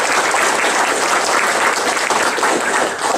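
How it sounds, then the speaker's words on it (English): Audience at a talk by Richard Dawkins, Sam Harris and Bill Maher breaks into loud, sustained applause that fills the room from start to end. "so let's give her a round of applause."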